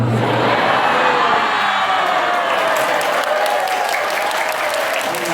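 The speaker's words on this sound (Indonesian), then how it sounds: "Tepuk tangan aja deh." A live audience breaks into loud, sustained applause with scattered cheers, a dense wash of clapping that stays steady throughout and thins only slightly toward the end.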